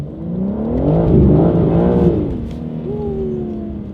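A BMW G80 M3 engine revs hard close by, rising to a loud roar that peaks and falls away, then a second rev climbs again, rough and throaty, with a brief squeal of spinning tires.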